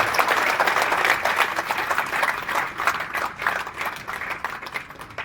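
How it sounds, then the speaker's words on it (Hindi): An audience at an Indian army birth anniversary ceremony claps steadily to welcome guests, a continuous dense round of applause throughout, with no speech over it. "मैं आपसे अनुरोध करूंगा एक बार तालियां बजा के सभी का स्वागत करें"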